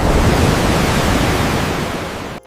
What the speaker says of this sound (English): The ocean looks beautiful today,